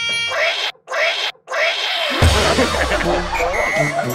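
A person imitating a cat with several drawn-out, wailing meows, loud and close, followed by a burst of noisy commotion.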